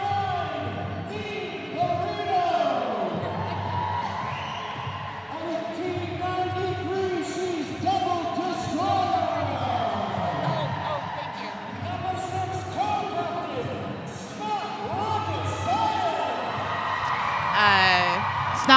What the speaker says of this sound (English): Snot Rocket Science getting a huge roar of approval from the crowd